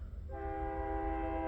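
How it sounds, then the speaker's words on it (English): Train horn sounding on an approaching freight train coming down a hill, a steady chord-like blast that starts abruptly and holds, heard from a moderate distance. "there is a train coming. He's coming from the other direction."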